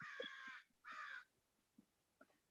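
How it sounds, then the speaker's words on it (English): Crows passing overhead give two harsh, drawn-out caws, followed by faint, brief calls as they move away, heard distantly in an otherwise quiet outdoor setting. "these crows that are passing by."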